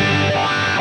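Electric guitar played with heavy distortion, strings struck hard, a sustained saturated chord ringing loud and steady throughout the short burst with no voices.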